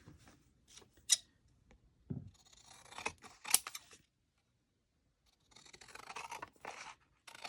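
Scissors cutting through paper for seed packet craft pieces, giving crisp snipping strokes in irregular bursts, close and clear, with a pause before a final run of rustling cuts.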